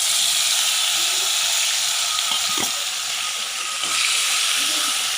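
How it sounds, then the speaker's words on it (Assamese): Fish sizzles and hisses in hot oil in a frying pan, a steady loud broadband crackle throughout with faint soft clinks and bumps beneath it. "এতিয়া মাছখিনি ভাজি লওঁ"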